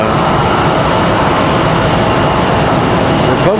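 Republic Airways jet airliner approaching at Raleigh-Durham International Airport, a steady loud broadband roar of engines and airflow holding throughout, close and continuous with no talk.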